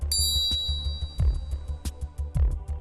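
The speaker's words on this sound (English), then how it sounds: "As you can tell, the MP52 has a much longer and richer sound." A Mizuno MP52 grain flow forged golf iron strikes a ball, giving a ringing metallic ding with long resonant decay, repeated as several close, distinct hits with dull low thuds between them and no talking.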